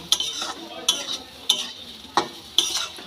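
A spatula stirs semolina upma in a pan, scraping and tossing in five or six quick, evenly spaced strokes over a faint, steady sizzle.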